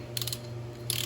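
A ratchet wrench backs off a nut on a GM 10-bolt axle during reassembly, giving two short bursts of quick, close clicking separated by a pause, over a steady low hum.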